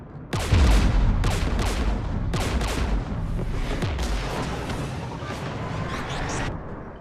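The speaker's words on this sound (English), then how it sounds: "We're taking fire." Heavy gunfire and artillery in the sci-fi game Mass Effect 3, several loud booming volleys in close succession with rumbling tails, dense and continuous across the whole stretch with no talking.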